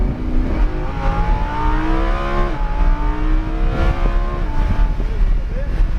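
A car accelerates around the Hallett Motor Speedway track, its engine note climbing steadily and sustained at close range. A voice speaks over the engine.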